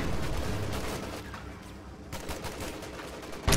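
Armor-piercing rounds fired in a strategy video game, a dense crackling fusillade of overlapping shots close by, easing slightly midway before sharp bursts return near the end.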